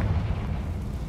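A Bombarda or Confringo curse explodes in Hogwarts Legacy, giving a loud, dense, rumbling blast that fills the whole short moment with no voices over it.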